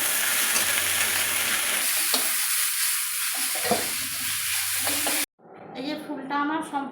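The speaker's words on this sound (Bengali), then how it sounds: "দিয়ে আমি ভালোভাবে ফুলগুলোকে কিন্তু ভেজে নেব" Drumstick flowers with turmeric and salt fry in oil with a loud, continuous, close sizzle and occasional stirring scrapes. It cuts off abruptly near the end, and a voice follows.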